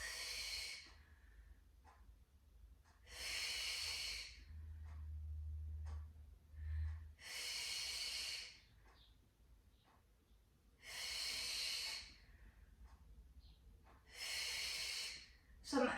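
Slow, deep breaths during a prenatal Pilates stretch with weights, exhales and inhales alternating in five airy bursts roughly every three to four seconds, close and fairly soft against a quiet room.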